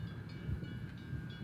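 Distant train passing near the Fairfield-Vacaville station, a faint low rumble with a thin tonal whine and some wind noise, steady and quiet.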